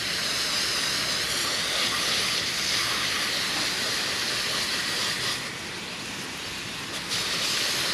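Easy low-pressure water stream spraying over a Can-Am Spyder F3 three-wheeled motorcycle during a wash, a continuous broad hiss of spray hitting bodywork, close and steady with a slight dip near the end.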